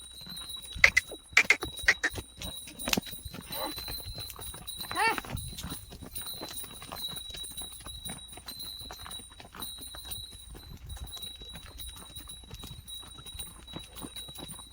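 Hooves of running Khillar bullocks clatter in a quick, uneven rhythm on hard ground, loudest at first then continuing more softly, with faint voices in the background.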